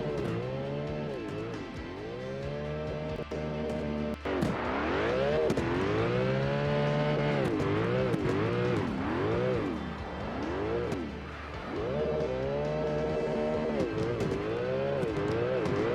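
A heavy racing car circles the course at a Red Ring round, engine harmonics sweeping up and down through repeated acceleration and downshifts, loud and close, with a brief dip near the middle before the revs climb again.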